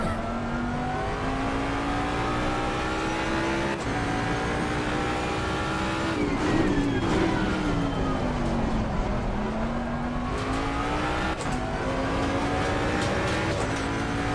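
Ford Mustang in the Assetto Corsa racing game, engine droning steadily with pitch rising and falling as the rear tyres spin and scrub, a continuous near, loud whine throughout with no talk.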